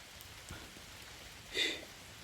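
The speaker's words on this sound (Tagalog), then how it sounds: "yung ulan lakas tagal ang ulan tuloy, basang basa na po kami" Heavy rain falling in a steady, soft hiss that is fairly faint and distant, continuous throughout with one brief brighter patter of drops.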